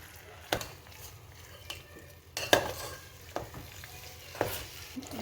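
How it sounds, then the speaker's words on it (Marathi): Jaggery filling for puranpoli cooks in a pan while a spoon stirs it, giving a soft low sizzle broken by several distinct scraping strokes and knocks against the pan, close and without talk. "हे आपण शिजवून घेऊया, व्यवस्थित मिक्स करून घेऊया"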